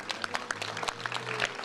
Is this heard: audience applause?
yes